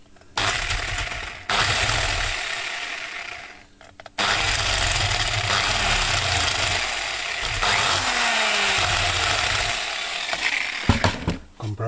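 Drill with a countersink bit biting into wood, heard as loud continuous whirring bursts with brief stops between them, the motor grinding steadily for several seconds at a time.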